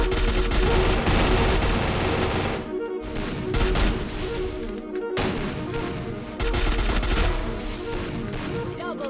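Dense gunfire in a Free Fire battle-royale match: loud, rapid bursts of automatic shots in several volleys separated by brief pauses, close and sustained.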